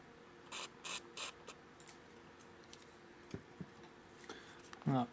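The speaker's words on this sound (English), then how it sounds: "I'm gonna just put a cloth under there so I can actually spray them" Contact cleaner is sprayed onto the switch connectors of a Fender 300 PS amplifier, with three short bursts of hiss close together followed by faint clicks and scraping of handling over a steady background hum.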